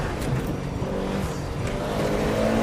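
An autocross car accelerates hard out of a slalom, its engine note rising and rolling through the short run, heard from a distance with steady road and wind noise and no talk.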